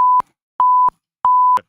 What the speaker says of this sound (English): I just pushed 4 beeps in a row.